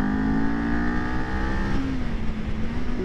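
A 2022 Kawasaki Z400 motorcycle engine revs loudly and close up, a sustained rising and falling engine drone held for a few seconds.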